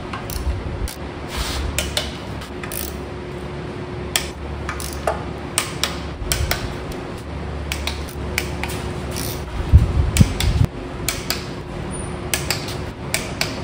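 A ratchet wrench tightening the oil pan bolts on a 2006 Chevy Silverado 5.3L engine to 18 foot-pounds in a crisscross pattern, giving close, irregular clicks and small metallic taps, with a busier clatter near the end.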